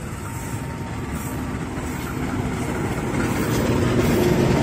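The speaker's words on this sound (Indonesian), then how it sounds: "Nah ini kereta barang." A freight train rumbles past nearby at Kampung Bandan station, Jakarta, a steady heavy roar of wheels and cars growing slightly louder throughout.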